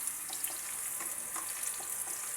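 Onion and garlic sautéing in a pan for pancit bihon, giving off a steady, close hiss of frying with small crackles and pops and no talking.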